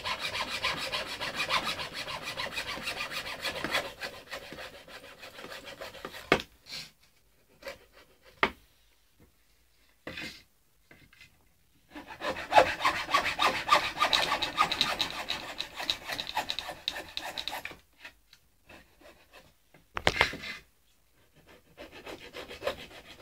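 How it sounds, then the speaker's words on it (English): Hand sawing plywood to shape for an RC Catalina PBY seaplane model: bursts of rasping, scratchy strokes close by, separated by pauses and scattered clicks as the cut is repositioned. "what we're going to do now is just chop around that piece of plywood so we get the proper shape"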